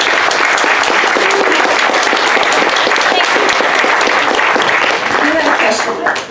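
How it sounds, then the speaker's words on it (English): A round of applause for a speaker named Beth fills a workshop room, dense, loud clapping sustained throughout with crowd murmur mixed in, tapering near the end. "Let's give Beth a round of applause"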